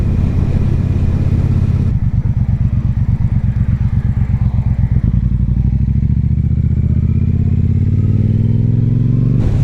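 A Triumph Bobber motorcycle rides down a street near Chesapeake Cycles, its engine loud and close, with a pulsing throb as it accelerates that eases into a steadier rumble.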